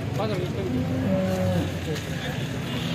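A cow lows in a long, wavering moo at a busy outdoor cattle auction market, heard fairly close over a steady crowd murmur and background noise.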